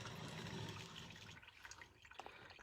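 Hot water poured over coffee grounds in a Chemex paper filter, a soft steady trickle that thins into scattered drips near the end, quiet and close.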